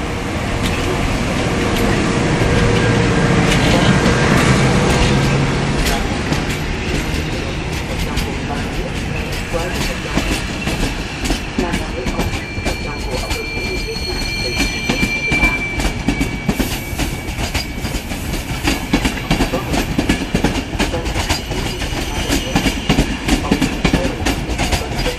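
EIC 1303 Krakus intercity train departing Warszawa Wschodnia station on a sunny day, a loud, close rumble of wheels with steady clickety-clack and occasional squeals building as it pulls away.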